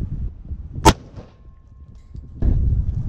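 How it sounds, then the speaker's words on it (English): A single sharp gunshot fired at a police car, loud and close, followed by quiet and then low rumbling noise. "Security man is just gonna shoot it."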